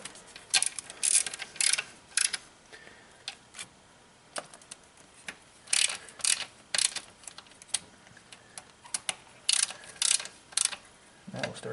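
A hand ratchet snugs spark plugs down on a Ford Edge 3.5L engine, its pawl clicking in quick bursts of sharp ticks with short pauses between strokes, close and fairly quiet, with no talking.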